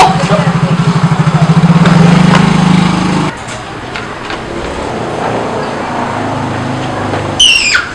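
A motorcycle engine starts with a rapid, loud pulsing chatter for a few seconds, then settles into a steady, quieter idle running close by.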